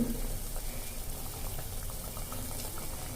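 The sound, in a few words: pea sandwiches frying in oil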